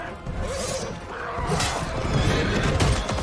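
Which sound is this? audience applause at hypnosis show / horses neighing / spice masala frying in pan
horses neighing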